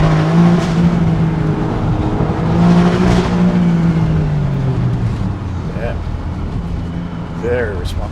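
A 2025 Alfa Romeo Stelvio Quadrifoglio engine in race mode sings in rising and falling revs, steady and fairly close, while people talk over it much of the time.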